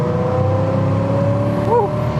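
A Datsun 240Z restomod pulls hard along an interstate, its engine holding a loud, steady, close-up drone with a strong tonal hum over road rumble throughout.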